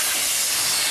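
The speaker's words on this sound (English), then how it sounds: "This locomotive behind me, Fenchurch, is what's known as a Terrier" Steam hisses loudly and steadily from Fenchurch, a Terrier steam locomotive, as a close, unbroken rush of noise.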